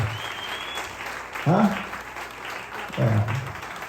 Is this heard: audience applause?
yes